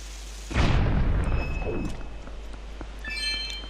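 A bomb bursts in Zelda: Twilight Princess as one loud, booming blast that rolls off into a fading rumble, followed by faint tonal game chimes.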